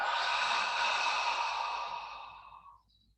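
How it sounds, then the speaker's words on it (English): Long audible exhale during a qigong exercise, a broad airy breath heard close and alone, steady for about two seconds before tapering off. "breathing out,"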